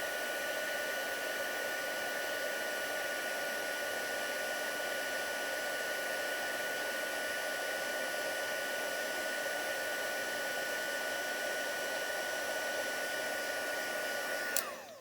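A heat gun blows in a steady, loud, unbroken roar while melting white embossing powder on a handmade card, running alone for about fifteen seconds before cutting off abruptly at the end.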